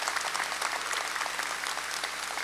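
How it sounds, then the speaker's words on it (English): Steady applause from a large audience at a convention center grand opening ceremony, honoring the construction team; dense, even clapping fills the whole stretch with no voices over it. "Give them a great round of applause"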